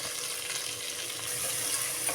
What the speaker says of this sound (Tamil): அடுத்தது பொடியாக நறுக்கிய வெங்காயம் 2,